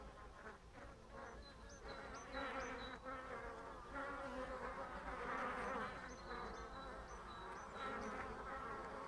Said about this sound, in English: I thought I'd just show you the bees flying in and out.